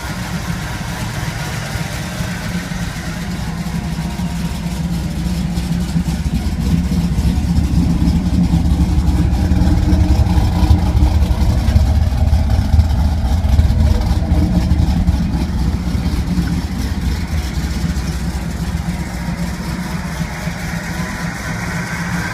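A 1994 Chevrolet Camaro Z28 with the LT1 V8 and an aggressive cam idles loudly and steadily up close, its lopey rumble swelling into a few revs midway before settling back to idle.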